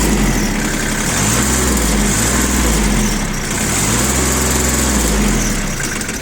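Shibaura SD1540 mini tractor diesel engine running steadily and loud, its pitch rising and falling in repeated swells as the hand throttle is pushed up and eased back, with no voices.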